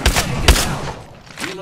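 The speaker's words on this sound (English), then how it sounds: "They're shooting at me." Gunfire in a video game firefight: two sharp, close shots in quick succession, then a fading tail and a third softer burst, with a brief voice near the end.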